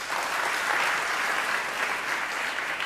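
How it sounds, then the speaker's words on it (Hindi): Audience applause fills the hall at a Jain Panchkalyanak religious gathering, a steady, dense wash of many hands clapping without a break. "पर केवल ताली बजाने से हम खुश नहीं होंगे।"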